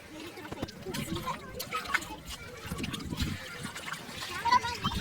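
Water splashes and trickles in the Kaveri river in irregular bursts as people move through it, with talk and voices throughout.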